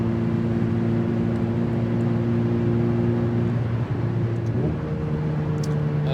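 Ferrari 488 Pista engine droning steadily at speed on the Autobahn, a loud close harmonic hum with wind and road noise that shifts pitch upward near the end as the revs change.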